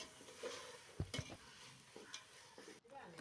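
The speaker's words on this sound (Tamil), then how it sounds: "சேர்த்து எல்லாம் நல்லா இன்னப்படி கலந்துட்டுக்கணும்." Tomato, curry leaves, mint and coriander being stirred in a frying pan for string-hopper biryani, with soft scraping and faint sizzling, a few louder spoon knocks near the start, quiet and close.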